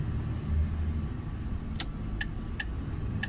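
A truck accelerates with a low, steady engine rumble, heard from inside the cab at moderate level, while a few faint high clicks sound near the end.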